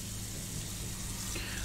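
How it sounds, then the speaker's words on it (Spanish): Running tap water in the video game Emily Wants to Play 2, a steady broadband rush of water while dishes are washed, continuous and fairly loud for the whole short moment with no talk. "Vale, va, fregamos los platos."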